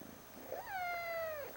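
A young kitten lets out a single thin, rising-then-falling whine lasting about a second, faint and close in a quiet room.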